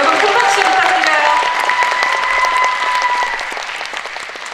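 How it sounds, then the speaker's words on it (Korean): A packed film festival audience claps at the end of a movie talk event, a loud, dense wave of applause from a large hall that fades slightly toward the end, with cheering voices rising over it. "여러분 큰 박수 부탁드려요"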